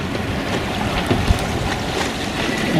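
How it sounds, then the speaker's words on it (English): Sailboat moving slowly under sail on the sea off the Isle of Mull, giving a steady wash of wind and water noise with soft splashes against the hull, close and continuous. "I'm having a nice wee sail now"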